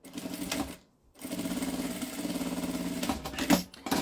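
Sewing machine stitching a small bag, a close, steady buzzing rattle that stops briefly, then runs again for a few seconds before slowing at the end.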